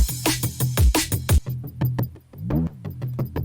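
A punchy drum and bass synth bass layer with a thick lower-midrange tone pulses in a quick rhythmic pattern, loud and upfront with no voices.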